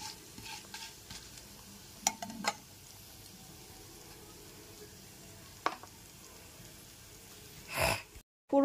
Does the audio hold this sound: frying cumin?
yes